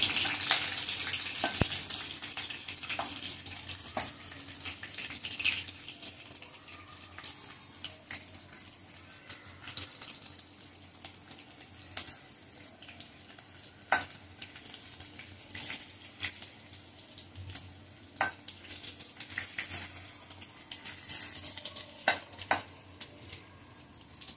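Curry leaves and garlic fry in hot oil, a continuous sizzle with frequent small pops and crackles scattered throughout, heard up close and without speech.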